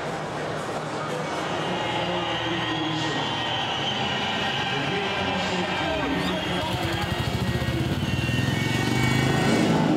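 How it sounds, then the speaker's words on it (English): Speedway motorcycles racing at a 2017 FIM Speedway GP Challenge event in Togliatti, Russia, a continuous loud roar of engines that swells toward the end, with commentary over it. "it is another fast start from Artem Laguta"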